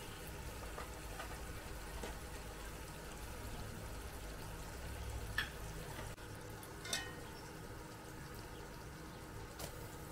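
Crab curry simmering and being cooked down in a pan with a little added water, a faint steady sizzle and bubbling with a few soft clinks of utensils, without talking.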